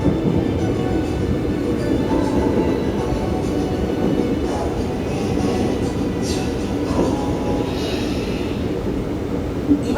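A train rolls into Dorasan station near the Korean border, a loud steady rumble of wheels and carriage noise that continues evenly throughout, with faint rail clatter.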